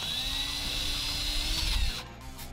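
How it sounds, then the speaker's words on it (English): Power drill opening up existing holes during a lift install on an overland Toyota Tundra, a high whine that holds steady for about two seconds under a rumble, then cuts off abruptly. "let's go ahead and open up some of these holes. We're not enlarging them very much"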